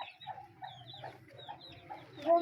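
A rooster clucks repeatedly in short, close bursts, a busy run of throaty calls with no talking.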